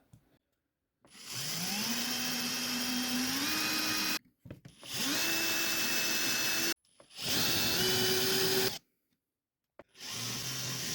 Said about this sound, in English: So I'll try drilling these pressed heads off.